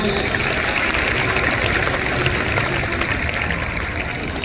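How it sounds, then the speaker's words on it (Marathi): Loud, sustained applause from an audience at a school Independence Day program, a dense, even roar of clapping that holds steady for the whole stretch. "आपण एकदा आधी सगळ्या जोरदार टाळ्या वाजवूया"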